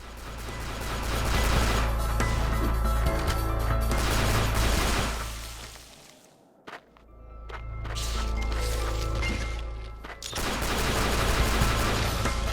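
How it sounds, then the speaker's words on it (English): Rapid bursts of pea shooter gunfire in the video game The 3rd Birthday, loud and dense over game sound, dropping away briefly mid-clip before resuming. "Yeah, gunshot sounds are whatever."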